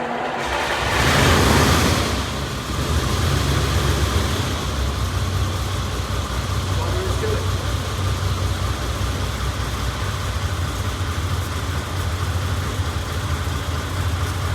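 A car with no choke cranks and catches after a couple of pumps of gas, a brief loud burst on starting, then settles into a steady, even idle that runs on close by.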